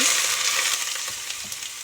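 Grated bottle gourd fries in ghee for halwa, a close, steady sizzle with faint stirring scrapes and no talking.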